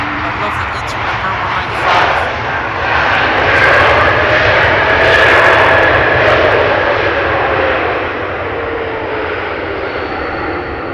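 An Embraer E195-E2 jet lands at Amsterdam Schiphol under its thrust reverser, a loud, steady broadband roar that swells through the middle of the clip and then eases off slightly, with no pauses.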